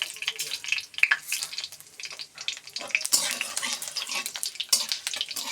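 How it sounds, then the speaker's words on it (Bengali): Dried chillies, two bay leaves and panch phoron sizzle in hot oil, giving a steady crackling fry with scattered sharp pops, close and fairly loud and heard alone. "তেলটা গরম হয়ে গেছে, দিয়ে দিলাম শুকনো লঙ্কা, দিচ্ছি 2টে তেজপাতা, আর দেবো একটু 5 ফোড়ন।"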